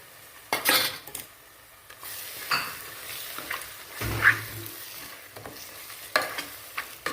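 Eggs are stirred in a frying pan for egg masala rice, with irregular spoon scrapes and clinks against the pan over a soft sizzle, close and moderately loud.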